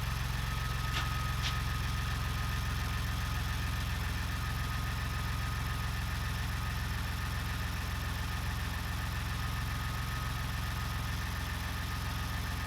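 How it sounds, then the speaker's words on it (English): A Ford Bronco engine idles steadily while warming up to operating temperature, giving a constant low rumble with an even mechanical hum that runs unbroken and fairly close. "letting it heat up, letting it idle up to operating temperature,"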